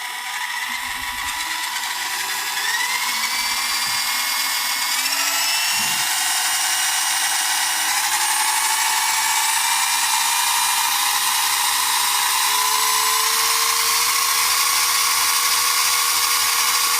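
A HoSPEED 1:18 scale Thunder Buggy electric RC motor whines steadily at full throttle, a high sustained buzz rising in pitch and holding loud and close for the whole stretch, with no voices.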